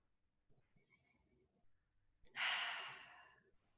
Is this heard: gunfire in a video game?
no